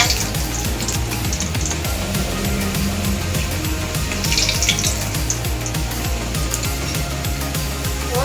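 Thekua dough fries in hot oil over a low flame, giving a loud, close, continuous sizzle and crackle with a rhythmic bubbling pulse underneath.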